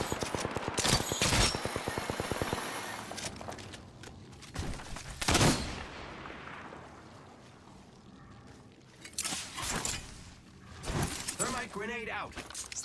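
Automatic weapon fire in the battle-royale video game Apex Legends, with sharp bursts of rapid shots early, later louder single blasts and scattered gunfire amid explosions and game noise, while a character's voice calls out.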